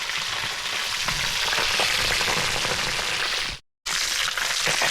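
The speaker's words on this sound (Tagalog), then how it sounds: "yung panglas na tilapia na piniprito ko" Tilapia frying in hot oil in a pan, a loud dense continuous sizzle with crackling spatter close up, broken by a sudden short silence before resuming.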